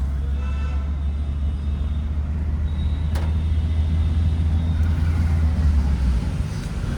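Car engine droning steadily as it picks up speed in first gear on a city-traffic driving lesson, a low continuous rumble that fades near the end, with faint cabin noise over it.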